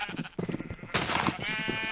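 Sheep on a farm in the video game Minecraft bleat repeatedly, several overlapping nasal baas in quick succession, fairly close and clear.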